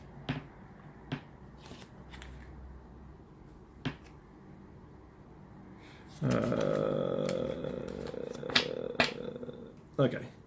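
Lawbot event cards from the Rail Raiders Infinite board game being shuffled and handled, a dense rustle of card stock that starts partway through and runs on, with small taps and clicks before it.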